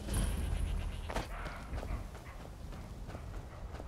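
Horse hooves in Skyrim clop along in a quick rhythm over a low rumbling background, fairly close, with no talking.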